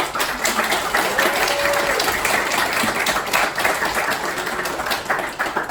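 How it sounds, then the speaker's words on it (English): A worship-night congregation claps together in a celebration of life at a reunion, a dense steady wash of many hands sustained throughout at moderate level in a reverberant room. "Let's clap."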